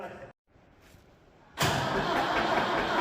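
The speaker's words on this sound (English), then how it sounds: "We haven't started the tractor now in a long time, so it'll be interesting to see now will it start." An old farm tractor, unused for a long time, is cranked on a snowy farm. A short muted churn is followed by a pause, then a loud, steady mechanical roar takes over for the rest of the clip.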